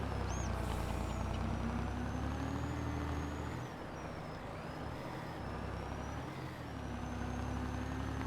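Farming Simulator 22 tractor hauling a slurry tanker, a steady low engine drone with whining gear tones that dip and rise again, continuous and moderately quiet with no talk.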